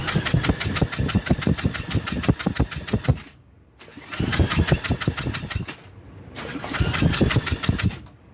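A small ATV engine runs in sharp, fast-firing bursts, revving up loud and close three times with brief quiet gaps between them, in the open air of a repair job.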